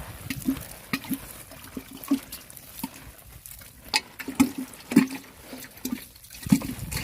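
Homemade insecticide liquid poured onto plants to soak them, irregular near drips, trickles and soft splashes with scattered small taps, moderately loud, no speech.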